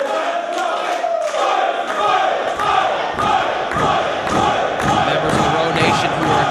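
A wrestling crowd cheers and shouts continuously with loud, rowdy energy. Sharp claps and thuds cut through the roar, and a commentator's voice talks over the cheering.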